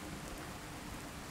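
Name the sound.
rain and thunder in video game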